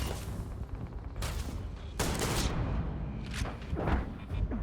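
Rapid bursts of gunfire and booming blasts crackle continuously in the video game Starfield, with a dense, noisy rumble throughout and a few sharper hits standing out.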